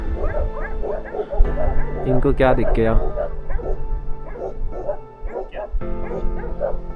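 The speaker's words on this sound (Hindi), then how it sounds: "पता नहीं क्यों तो कुत्ते भौंकने लग गए" Several dogs bark repeatedly outdoors in the Lahaul area of Spiti Valley, with loud close barks and yips, some whimpering, and someone talking over them.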